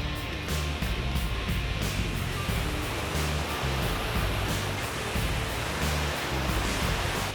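Broad, steady rush of creek water flowing over rocks on a gold prospecting outing, a continuous close wash with no talk.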